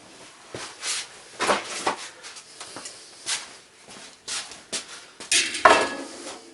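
A chain whip tool handled against the rear sprocket of a fixie bike being built gives off close, irregular metallic clinks and rattles, with a sharper clank near the end.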